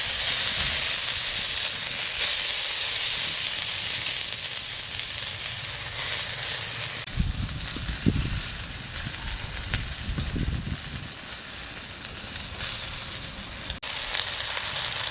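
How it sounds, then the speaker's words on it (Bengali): Steady loud sizzle of hilsa fish patoori wrapped in taro leaves frying in hot oil, a continuous hiss filling the whole stretch with a few deeper crackling bursts midway. "এবারে ভেজে নেব, তেলে ভেজে নেব।"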